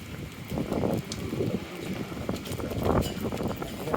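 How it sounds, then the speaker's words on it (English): Strong gusts of wind downtown during heavy rain, a continuous roaring rush buffeting the microphone with rising and falling surges, loud and close. "Here comes more wind."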